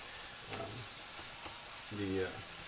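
Ground beef frying and sizzling steadily in a hot pan as it is broken up, with a few soft scraping taps; a voice speaks briefly near the end.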